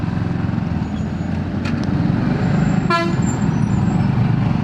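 Dense road traffic on the way to Yercaud, with a steady loud rumble of engines and a sharp horn toot cutting through, plus fainter honks in the background.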